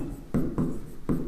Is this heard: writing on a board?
yes